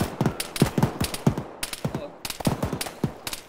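Rapid, repeated gunfire in a military video game set on town streets, cracking in quick uneven bursts with brief pauses, fairly loud and close.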